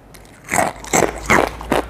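Four crisp, loud bites crunch close up into a crunchy fried combro, a cassava snack, evenly spaced with no talking.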